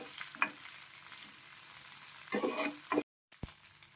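Onions sauté quietly in a pan for a tomato dish, giving a soft, steady sizzle broken by a few scraping stirs and a brief clatter near the end.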